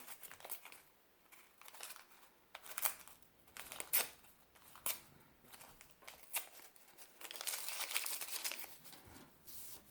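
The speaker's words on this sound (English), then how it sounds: "Tear off a few pieces of the brown." Brown paper bag being torn into pieces by hand: a string of soft, irregular rips and crackly rustles over about ten seconds, close and faint, with no one speaking.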